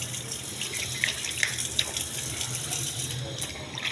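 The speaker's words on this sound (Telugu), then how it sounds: "తోలు తీసుకుని సొరకాయని శుభ్రం కడగాలండి" Peeled bottle gourd rinsed under a running tap, a continuous splash of water into a sink with a few brief clinks, fairly quiet and with no speech.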